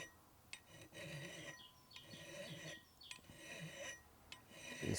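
A hand file rasps along the edge of an axe blade, reshaping the rounded cutting edge after nicks from stones. The strokes are quiet and close, coming in several uneven passes with soft breaths between them.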